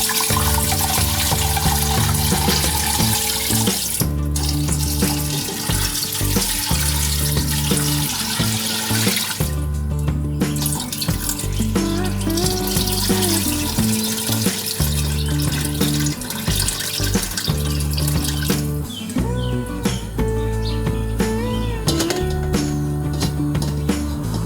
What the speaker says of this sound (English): now I'm going to cover the bones with water and then bring the pots to the boil